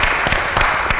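Audience at a Brazilian municipal event honouring the mayor clapping, a brief burst of close, dense applause with a few distinct hand claps.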